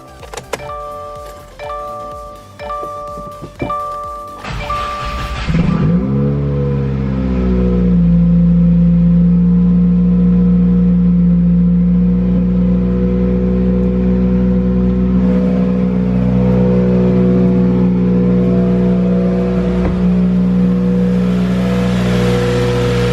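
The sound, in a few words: 2015 Subaru WRX FA20 engine starting and running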